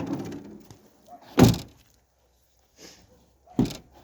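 The rear door of a Renault Trafic van thuds shut in two separate solid slams a couple of seconds apart, with quieter handling clicks and rustles between them in a quiet setting.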